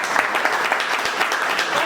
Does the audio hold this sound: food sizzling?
no